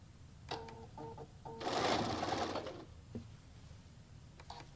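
A home embroidery machine stitches a hood onto a towel, running in short mechanical bursts with a longer whirring run in the middle, close and clear, with pauses for pivoting.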